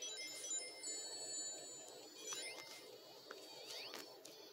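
A phone ringtone chimes quietly in repeated high electronic tones, mixed with faint background game sounds.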